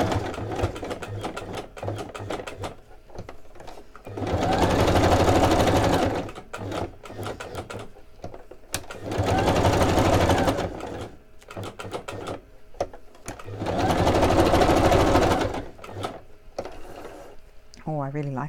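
A sewing machine zigzag stitches around a coffee-dyed doily in three loud, whirring bursts of a few seconds each, separated by quieter handling clicks and brief talk.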